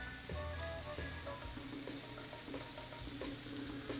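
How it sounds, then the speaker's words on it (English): Quinoa heats in a pot on the stove, nearly at a boil, giving a steady soft bubbling hiss with light ticking pops throughout and no voices. "Let's see how's our quinoa going. Oh yes, almost boiling."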